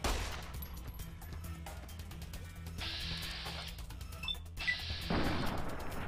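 Gunfire in the video game Fallout: New Vegas, a dense run of shots and impacts layered over game noise, with two louder bursts of firing and ringing debris near the end.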